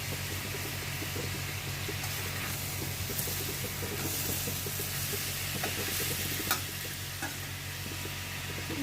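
Prawns and onions frying in a pan, a steady close sizzle with the scrape and clatter of a spatula stirring through it, and no voices.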